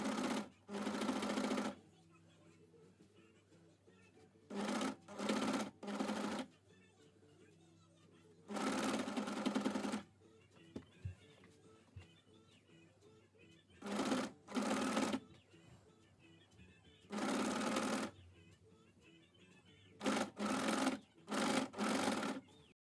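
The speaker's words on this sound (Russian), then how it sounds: "Тут я уже ничего не натягиваю, просто шью по горловине и все." A sewing machine stitches a 100% cotton knit binding onto a neckline in short, close, rapid mechanical bursts of a second or two, separated by quiet pauses, with a soft voice now and then.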